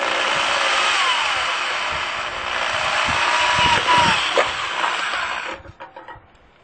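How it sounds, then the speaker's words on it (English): A power drill bores a hole through a tin can with a steady, loud whining grind for about five seconds before cutting off, leaving a few faint clunks afterward. "we're going to drill a hole through here and into here"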